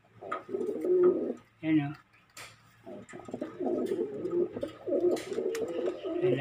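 Domestic pigeons cooing close by in a loft, a steady run of low throaty coos with a brief pause, while someone talks over them.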